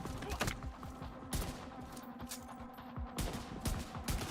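Gunfire in The Division 2, a series of sharp, fairly loud rifle shots in irregular clusters, with several quick bursts separated by short pauses over an ongoing battle backdrop.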